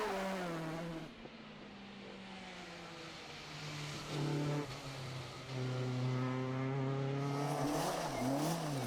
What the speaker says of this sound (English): chael Walton and Jamie Vaughan close behind, 4th of the championship entrants with their very yellow Ford Escort.